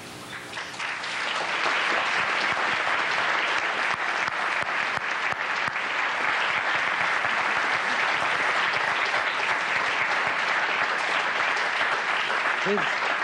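A lecture audience welcomes Professor Amartya Sen with sustained, loud applause that swells quickly and holds steady as a dense wash of clapping from a full hall.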